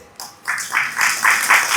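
An audience at a Hindi religious discourse by a Jain monk claps together in a rhythmic pulse of roughly four beats per second, starting after a brief hush and growing slightly louder, with no talk over it.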